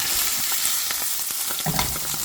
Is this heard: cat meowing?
no